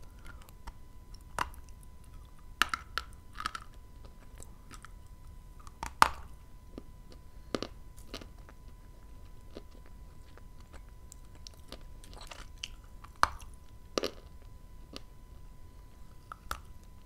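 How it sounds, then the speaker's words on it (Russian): Dried Kyrgyz prunes bitten and chewed up close, a quiet run of soft, sticky bites and squishy chews spaced irregularly, some crisper snaps standing out, with no talking. "Откусил, и он весь развалился."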